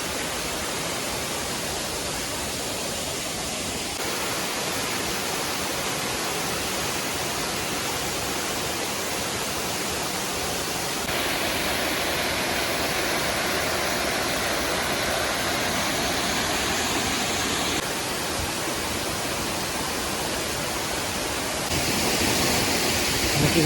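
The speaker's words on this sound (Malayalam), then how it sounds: "നമുക്കിങ്ങനെ വെള്ളച്ചാട്ടത്തിന് അടുത്തോട്ട് പോകാൻ പറ്റും." Punnayar waterfall in Idukki pours in a dense, steady roar of falling water, loud and close, with slight shifts in intensity and no voices.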